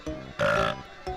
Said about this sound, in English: but they also make them burp like that, which is just beautiful.